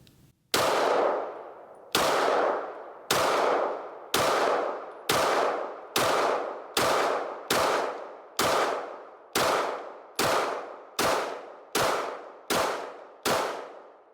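A CZ P-10c pistol firing a string of about fourteen sharp, loud shots at a steady, slightly quickening pace, each crack followed by a short ringing decay, nearby with no voices.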